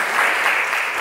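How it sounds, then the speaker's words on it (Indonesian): Audience applause at a church gathering, a steady wash of clapping filling the whole second without a break, fairly loud and even, with no voices heard over it. "Tepuk tangan untuk mereka."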